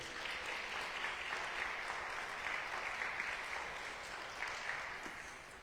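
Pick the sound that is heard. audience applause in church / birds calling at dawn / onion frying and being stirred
audience applause in church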